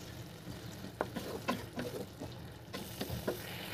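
Tomato and chilli paste frying for a vegetarian potato curry (alur dom), a soft close sizzle with irregular stirring scrapes and taps in the pan, no voices.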